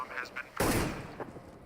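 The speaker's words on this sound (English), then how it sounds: "that's a lovely shot from Kyoshima." A single loud gunshot burst with a short decaying tail cracks out in a Counter-Strike: Global Offensive pro match on Dust2 at ESL One Cologne 2016, while a commentator talks over the round.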